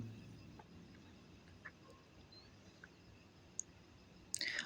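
A computer mouse clicks on a buy now button of an online earning site. A few faint, sharp clicks rise briefly above a quiet room hiss, with the last ones near the end and no speech.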